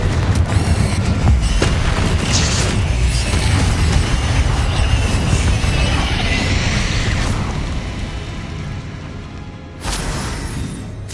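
A Confringo fire spell in Hogwarts Legacy sets off a loud, sustained booming explosion with a dense roar that fades slowly, then a sharp fresh burst near the end.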